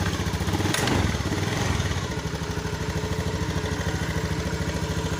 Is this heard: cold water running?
no